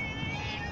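Cats meowing outdoors at night during a fishing outing, a short burst of close, steady cries over a low background hum.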